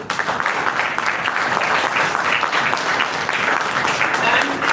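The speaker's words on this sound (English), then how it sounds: "a big round of applause to all our students, dear students, student volunteers," A conference audience applauds students and volunteers, sustained loud clapping from many hands filling the room evenly throughout, with no speech on top.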